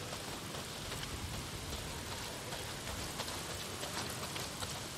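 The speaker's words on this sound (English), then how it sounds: "Well, not if it's pissing down rain." Steady heavy rain pours down in the Days Gone video game, a dense continuous hiss filling the scene with no breaks, loud and close, with no talking over it.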